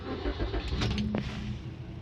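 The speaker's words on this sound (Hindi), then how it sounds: "अब गाड़ी आप स्टार्ट करोगे तो ईजिली स्टार्ट हो जाएगी" A Maruti Suzuki Swift petrol engine with vibration, long cranking and unstable running starts up and settles into a close, loud idle, a low rumbling drone with a brief rise in revs midway.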